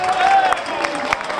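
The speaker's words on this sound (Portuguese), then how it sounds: "Aplausos para" Audience at an accordion players' festival in Crato, Ceará, applauding the fifth-place finisher, a burst of clapping and crowd noise with a brief whistle-like tone early on and speech-like sounds mixed in.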